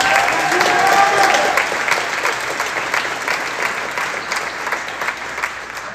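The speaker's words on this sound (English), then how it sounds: "a short round of applause" Sustained applause from a large audience, steady and loud throughout, with dense clapping that slowly eases slightly toward the end.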